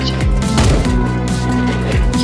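Loud, dense gunfire in a video game, with rapid bursts of shots layered over a constant rumbling background.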